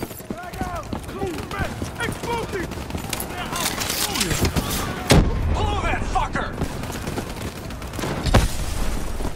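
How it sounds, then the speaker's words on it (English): A tunnel support blown up in Call of Duty Black Ops 3, a sudden loud detonation punching through continuous gunfire and battle noise, followed by another heavy blast a few seconds later. "Detonation confirmed."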